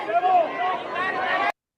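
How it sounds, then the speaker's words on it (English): Crowd noise at a football game, a broad continuous murmur and chatter from many spectators, steady and fairly loud for about a second and a half before cutting off abruptly. "But you can hear the crowd difference."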